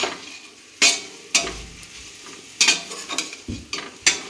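Spice powders, pepper and garam masala, being stirred and fried in a pan for a Kollam-style lunch curry: repeated sharp scrapes of a spoon against the pan over a soft, steady sizzle, close up and without talk.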